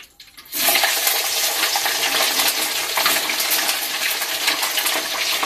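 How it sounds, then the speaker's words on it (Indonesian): Pomfret fish goes into a pan of hot oil and fries with a sudden loud, dense hiss and crackle that starts abruptly after a quiet moment and stays steady and close, with no talking. "Ini tinggal goreng ikannya."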